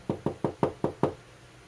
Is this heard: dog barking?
no